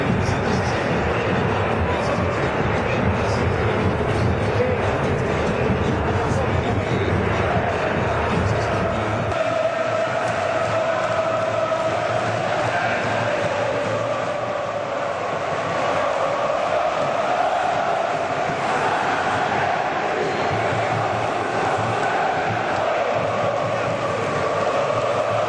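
Dense stadium crowd of Fluminense and Boca Juniors football fans, a continuous roaring wall of chanting and cheering that stays loud and steady throughout, with the mass of voices thickening after the first few seconds.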